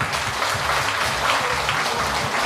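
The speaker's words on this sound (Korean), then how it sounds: "아니 사실이라고 생각 박수 한번 보내주세요" An audience at a live comedy and folk performance show claps in a dense, continuous burst that fills the short moment, close and fairly loud.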